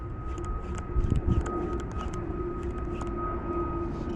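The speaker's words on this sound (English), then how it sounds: "Oh, another plane." An airplane passing overhead above a canal bank gives a steady, moderately loud drone with a faint tonal whine, plus a few light chirps on top and no talking.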